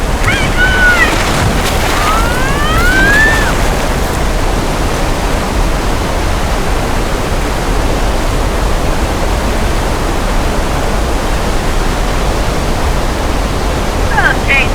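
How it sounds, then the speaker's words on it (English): A heavy, steady rush of falling water and splashing, like a downpour, from an artificial rain and flood effect in a Universal Studios attraction, with a few brief squeals early on. "that little demonstration of how we make rain and floods happen on set."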